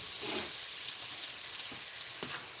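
Onions fry in a skillet with a constant close sizzle and a couple of faint pops near the end.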